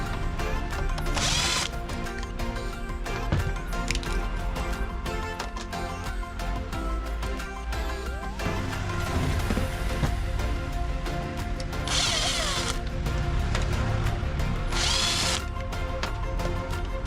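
A power tool loosens the screws on an HTP pump: a continuous whirring mechanical drone with rapid ratcheting clatter and several brief high-pitched whines, steady and close throughout, with no voices.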